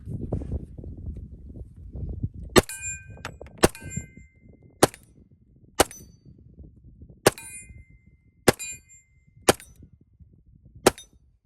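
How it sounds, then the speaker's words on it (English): Shots from a TISAS 1911 .45 ACP pistol ringing off steel targets about 20 yards away outdoors, eight sharp reports with metallic clangs spaced roughly a second apart, loud and alone over faint background rumble. "We got our steel set up about 20 yards away. We're just gonna fire some ammo at it"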